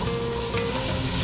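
Spices frying in oil in a pan for a chicken coconut red curry, a dense continuous sizzle with faint stirring scrapes, steady and fairly loud, no talk.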